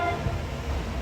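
New Jersey Transit Raritan Valley Line double-decker train, a steady low rumble with a brief tonal horn-like note, heard from on board over about a second.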